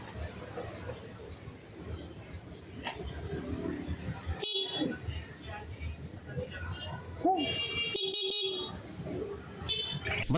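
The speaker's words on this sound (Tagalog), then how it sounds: "sinaksa ko muna yung horn bago siya ikabit sa motor" A replacement horn for a Cafe 400 motorcycle is tested off the bike in a few short, sharp beeps and one longer blast, heard over a person talking and steady background noise.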